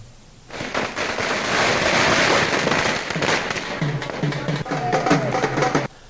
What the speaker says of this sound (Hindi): प्रदेश कांग्रेस कमेटी कार्यालय पर पटाखे फोड़े जा रहे हैं और जश्न मनाया जा रहा है।